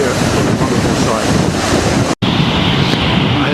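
A waterfall in Iceland pours across a river in a loud, broad roar of rushing water. Wind buffets the microphone, and the sound breaks off briefly near the middle before carrying on.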